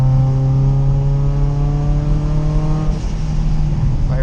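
The engine of a widebody Mitsubishi Evo X holds a loud, steady, close drone at half throttle, its pitch easing slightly near the end.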